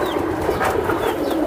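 Giribaz pigeons, including a silver Giribaz, coo softly and continuously at close range over a busy market-like murmur, with no voices standing out.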